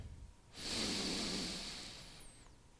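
A single long, slow breath drawn in and let out through the nose during a calming yoga exercise for anxiety, close and soft, rising then fading over about two seconds in a quiet room.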